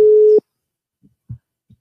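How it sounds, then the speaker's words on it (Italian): Telephone busy tone after a dropped call line: one loud steady beep, then silence broken by a few faint low clicks. "Caduta la linea proprio sui saluti finali."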